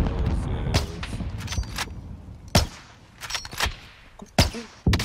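Sniper rifle shots crack in a first-person shooting video game, half a dozen sharp reports spaced irregularly across the stretch, some loud and close, others softer, over a faint background hum.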